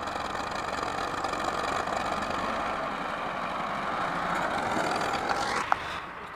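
A tractor engine idles steadily and continuously at moderate distance, with a rumbling low mechanical drone and no voices throughout.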